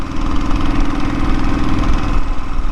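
A black Royal Enfield motorcycle engine idles close by in mountainous Nepal, a steady low chugging putter with a constant rhythmic throb and no speech.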